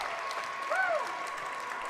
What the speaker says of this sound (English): Standing ovation from the crowd.